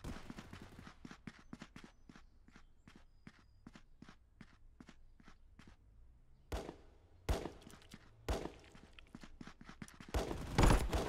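An automatic pistol fires in the video game Contractors, a fast regular burst of sharp cracks that tails into scattered louder shots. No speech.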